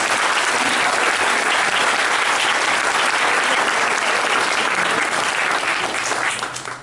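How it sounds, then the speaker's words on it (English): An audience at a school Parents Day event breaks into dense, steady applause that fills the room at full strength before tapering off at the very end. "So let's give her a round of applause for doing"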